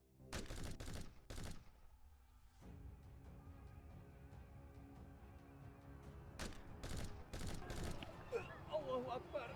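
Volleys of gunfire crack out in a village fighters' war drama, with a cluster of sharp shots at the start and another loud burst later, against ongoing rumble and voices.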